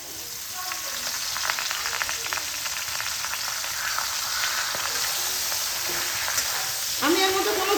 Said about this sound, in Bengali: এবার এর মধ্যে আমি এই যে লাল শাক কেটে রেখেছি এইটা এর মধ্যে আমি ভেজে নেবো